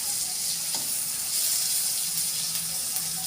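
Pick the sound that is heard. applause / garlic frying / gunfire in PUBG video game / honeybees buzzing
garlic frying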